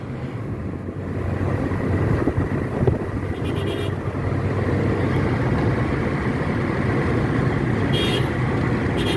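A car drives along a road, its steady low engine and tyre rumble filling the cabin with wind buffeting, and a few brief higher clicks or ticks come through near the start and end.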